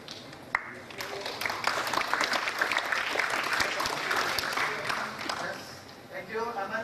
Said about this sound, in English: big round of applause for Aman